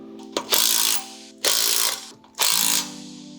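A ratchet wrench tightens the bracket of a Coast RV Gator Jack in three loud, close bursts of rapid clicking separated by short pauses.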